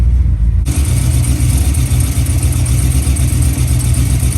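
A twin-turbo Cutlass 442 with a built 427ci V8 and 4L80E transmission runs while still warming up, a loud, close, steady engine rumble that jumps in abruptly and holds even, with no one talking.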